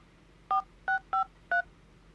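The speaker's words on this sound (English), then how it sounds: "They actually had beeping noises." Four short, clean dial-tone beeps from a phone being dialed in the Mr Love video game, evenly spaced and clear against a quiet background.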